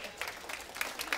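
A church congregation claps in faint, scattered bursts of applause, a light patter of hands rising and falling over a few moments.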